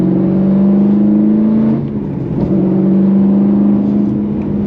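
A car with an aftermarket JQ Werks steering wheel pulls hard on the road, its engine droning loud and steady as the revs climb, dipping briefly mid-pull before building again.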